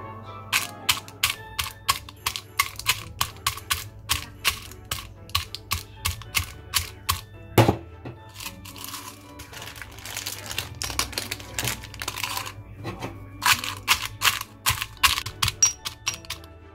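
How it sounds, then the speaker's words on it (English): Crushing candy canes for Christmas brownies gives a long run of rapid, sharp cracking and crunching clicks at close range, steady and irregular throughout with a few short pauses. "And I'm gonna crush some candy canes."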